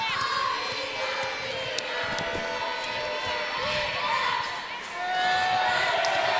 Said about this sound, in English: Gonna hear it from the crowd.